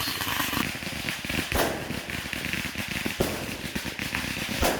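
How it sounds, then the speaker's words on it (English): Rapid crackling pops and sharp bangs of fireworks going off continuously, dense and fairly loud, with a few stronger bursts standing out. "Just let your fireworks bounce off them and pop where they may."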